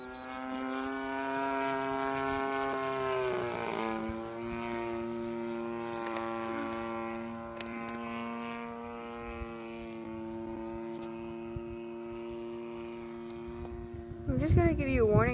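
A Fly-Model Slick RC model airplane on its maiden flight drones overhead with a steady buzzing whine, holding pitch for long stretches with slight rises and dips, a faint sound under scattered outdoor noise.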